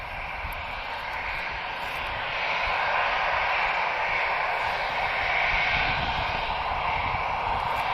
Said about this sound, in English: just waiting for our A321neo, and then we shall see a departure from Air France